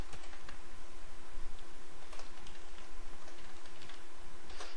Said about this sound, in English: I can type the query in right here